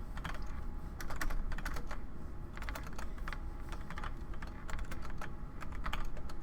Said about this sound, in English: am not used to this keyboard, Zach.